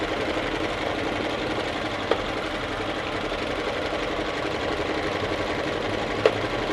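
Singer heavy-duty home sewing machine, built like an industrial model, running in a steady continuous whir of stitching at moderate loudness, with two brief clicks along the way.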